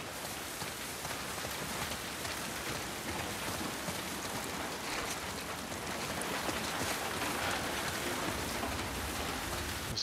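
Steady broadband rain patters without a break through a forested outdoor area in The Last of Us Part 2, a continuous even hiss with no voices over it.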